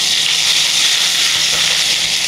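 Garlic and ginger fry in hot oil with a loud, steady, close sizzle that runs without a break and has no talk over it.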